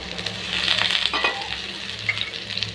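Pumpkin and drumstick pieces frying with spices in oil, a close continuous sizzle with intermittent stirring and scraping, no voices.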